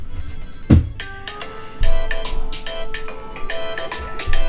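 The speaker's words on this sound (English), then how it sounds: "I apologize, I didn't mean to have the phone going." A phone ringtone plays a bright, repeating electronic melody of short tonal notes, fairly loud and steady over a low background of game sound, with a thump near the start.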